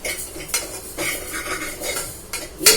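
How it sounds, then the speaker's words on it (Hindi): Broken wheat (dalia) being dry-roasted and stirred in a pan for a savoury porridge, with a spoon scraping and clinking against the metal in uneven strokes, close and fairly soft, ending in a sharper clatter. "ये मैं भून रही हूँ दलिया।"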